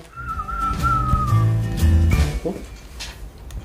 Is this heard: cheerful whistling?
yes